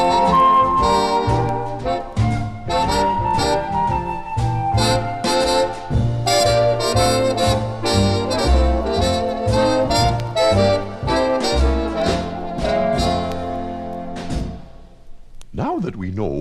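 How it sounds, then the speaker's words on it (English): Flute, bass violin and lyre play together in a lively ensemble: a sustained melodic line over plucked, rhythmic notes and deep bass, continuous and close, fading out at the end. "The Pythagoreans played using a flute and an early version of the bass violin and a lyre."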